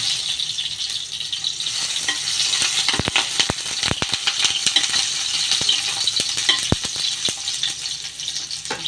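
Garlic and then ginger sizzle in hot oil as they are sautéed. A steady frying hiss runs underneath, broken by sharp clicks and scrapes of a utensil against the pan.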